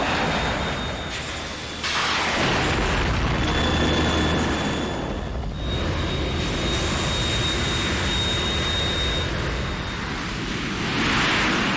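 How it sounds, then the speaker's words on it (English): A Harrier jet in Metal Gear Solid 2: Sons of Liberty gives off a loud, continuous roaring rush of engine noise that swells and dips over several seconds, with a thin steady whine on top and no voices. "You have to shoot the Harrier down."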